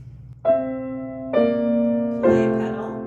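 Piano playing three sustained pedaled chords from Schumann's Träumerei, measures 19-20, each struck about a second apart and left ringing into the next.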